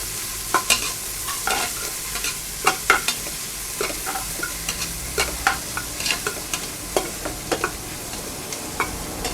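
Onions frying in a pan for cooker chicken biryani, with a steady background sizzle broken by repeated sharp scrapes and clacks of a stirring spoon at an uneven rhythm, close and fairly loud throughout.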